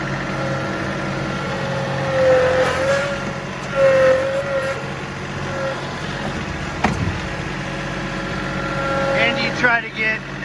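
A four-wheel-drive tractor loader works in low gear scooping dirt, its engine running steadily with rises in revs and a whining tone, while a person talks over it.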